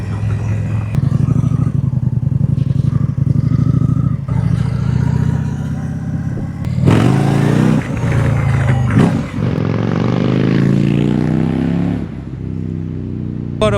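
An Indian Scout motorcycle engine runs and revs, rising and dropping in pitch as it accelerates and shifts, with some mechanical clatter.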